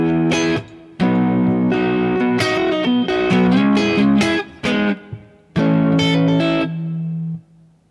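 Electric guitar playing a riff slowly with a clean tone, ringing chords and single notes in phrases separated by short pauses, close and alone.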